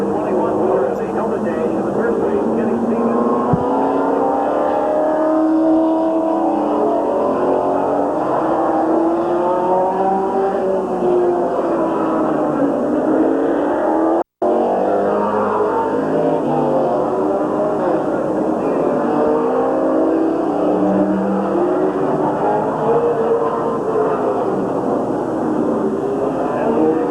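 Super late model stock cars race around Midvale Speedway in 1987, a steady roar of engines swelling and fading as the pack laps the oval, heard from the stands with a continuous drone throughout.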